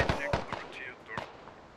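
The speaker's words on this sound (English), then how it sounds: "He shoots Razor in the back." Sharp gunshots from the Squad Ops video game fire in a quick irregular burst of four or five cracks, fairly close, with faint speech-like sounds between them.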